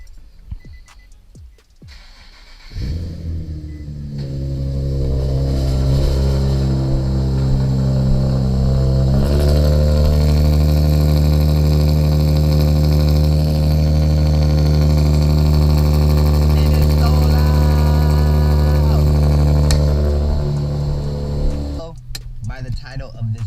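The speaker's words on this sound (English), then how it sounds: "Let me give you guys a quick cold start." Nissan 370Z cold start: a brief starter whir catches into a loud flare of revs, then settles into a steady, strong idle that hums on for many seconds before cutting off.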